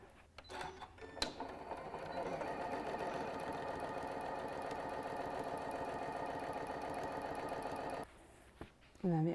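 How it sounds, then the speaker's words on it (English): Sewing machine stitching the quilted lining of a scrappy pouch, a steady mechanical whir running for several seconds, with a brief voice before it starts and after it stops. "when we sew along the lining, we'll just try to pull back as much of that quilted part as we can"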